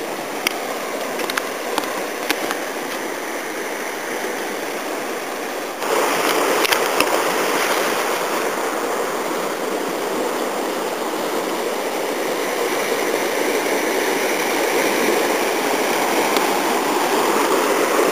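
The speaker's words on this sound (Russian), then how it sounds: "Такой ручей, смотри, такая вода." A mountain stream at Nelson Lakes rushes over rocks in a steady, full roar of splashing water, growing louder partway through and continuing close by.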